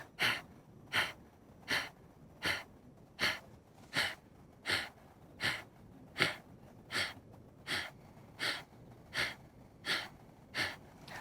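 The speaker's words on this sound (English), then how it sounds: "Only exhale, exhale and relax, exhale and relax." Slow exhaling breaths from a yoga breathing exercise repeat about every 0.75 seconds in a steady rhythm. The sharp, forceful puffs are close and faint, with no voices.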